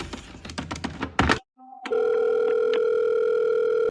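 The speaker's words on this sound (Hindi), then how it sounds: "बादशाह सलामत का फोन काट दिया" A steady telephone dial tone starts right after a call is hung up, loud and continuous following a short silence and some brief clicks.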